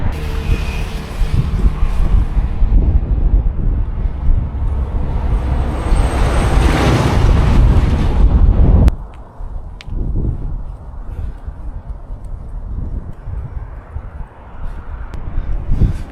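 Strong wind buffets the microphone on the Karakoram Highway in Xinjiang during a mountain bike ride. Loud, low, rumbling gusts roar for about nine seconds, then cut to a much quieter, fluttering breeze.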